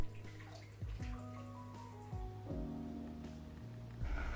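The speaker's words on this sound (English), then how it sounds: "I begin by cleaning it well using warm water and soap." A stone is washed by hand with warm water and soap, giving quiet, close splashes, trickles and drips in short irregular bursts.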